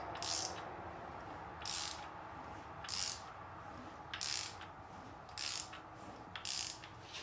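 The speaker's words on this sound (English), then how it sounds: "I'm just going to turn it over a couple times." A freshly assembled and torqued engine rotating assembly is turned over by hand, giving six evenly spaced, short ratcheting clicks about a second apart, close and fairly quiet against a faint background hiss.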